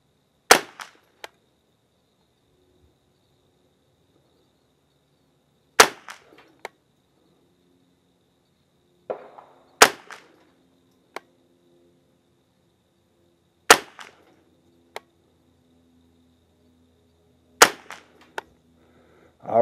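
A Remington Nylon 66 rifle fires single sharp shots at a target at evenly spaced intervals of about four seconds, each crack followed by small clicks and faint echoes against near silence.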